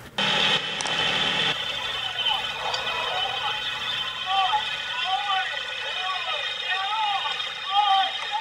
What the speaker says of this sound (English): He's a humpback whale.